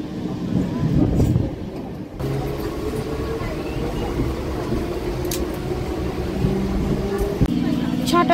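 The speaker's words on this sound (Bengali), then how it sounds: "গোপালনগরে ট্রেন ঢুকলো।" A local train pulling into Gopalnagar station in West Bengal, a loud steady rumble and rattle of carriages with squealing brakes and a hiss near the end, heard from on board amid crowd noise.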